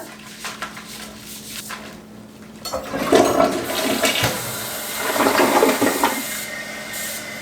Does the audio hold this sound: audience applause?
no